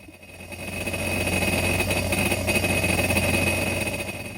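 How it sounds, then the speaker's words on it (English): A steady mechanical whir and hum runs continuously, swelling slightly then holding: a drill-driven pump pumping antifreeze into a Sea-Doo Switch boat's system during winterization. "I'm starting the drill pump again now that the boat's on to start pumping the antifreeze back into the system."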